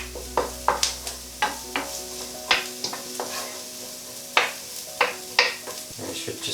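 Onions sizzle steadily in a hot pan for a jackfruit fajita dish, with repeated sharp clacks and scrapes of a utensil stirring them every half second or so, close and fairly loud.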